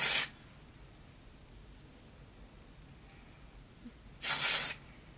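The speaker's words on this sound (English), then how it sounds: "dry spray for, like, heat protection" Dry heat-protection hair spray hisses into hair in two short bursts, one at the very start and a longer one near the end, with quiet between them.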